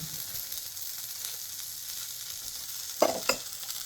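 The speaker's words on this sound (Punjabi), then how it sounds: "ਬਸ 1 ਮਿੰਟ ਆਪਾਂ ਇਹਨੂੰ ਇਸ ਤਰ੍ਹਾਂ ਲੋ ਫਲੇਮ ਤੇ ਸੇਕ ਲਗਾਵਾਂਗੇ" Potato-filled buttered dosa paratha roll toasting on a pan over low flame, a soft steady sizzle and hiss with two brief scraping bursts near the end as it is moved.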